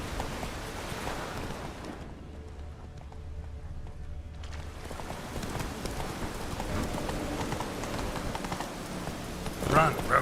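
Roach the horse running in The Witcher 3, rapid clip-clop hoofbeats over a rain-like wash of game ambience that briefly drops away mid-run, with a short shout near the end.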